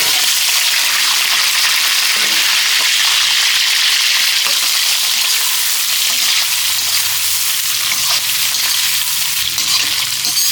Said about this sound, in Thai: เดี๋ยวเราก็จะนำกุ้งนี่ค่ะลงไปผัดกับน้ำมันก่อน